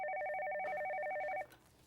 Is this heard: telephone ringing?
yes